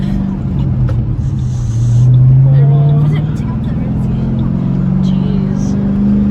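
A manual transmission car's engine drones and rises in pitch as it pulls away under throttle, heard from inside the car, with people talking over it throughout.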